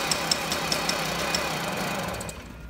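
A 1976 Jawa Babetta moped engine runs with a rapid, rattling buzz and a few sharper knocks, close and loud, then quickly drops away near the end.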